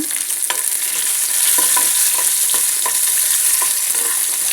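A tempering of crushed garlic fries in hot oil for bottle gourd pulusu, giving a loud, dense, even sizzle with a few light spoon taps and scrapes scattered over it.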